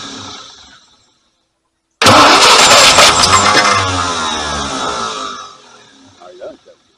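A Packard 327 straight-eight with a freshly swapped four-barrel carburetor cranks and catches with a sudden loud roar, runs rough for a few seconds, then fades as it dies, with voices talking before and after.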